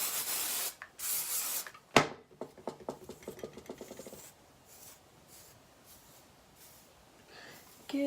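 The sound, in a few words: hairspray being sprayed on hair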